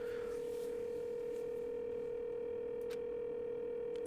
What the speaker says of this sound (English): Sounds like it's connecting to somewhere, but no one's picking up.